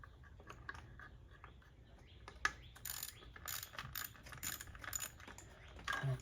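A ratchet wrench loosens a spark plug on a BMW X1 (F) s-Drive engine, making quiet, rapid clicking pawl sounds in uneven bursts, close up and with no talking.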